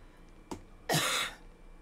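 A single person coughs twice indoors: a short, soft cough followed about half a second later by a louder, longer, breathy cough, both close and alone, with no talk.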